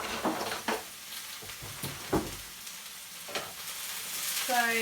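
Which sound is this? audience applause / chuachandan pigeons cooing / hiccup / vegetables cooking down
vegetables cooking down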